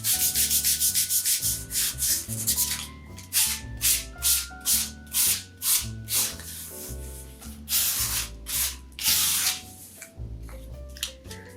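Repeated rubbing strokes of sandpaper on a painted wooden sign, rhythmic back-and-forth scratching close up, with brief pauses between bursts.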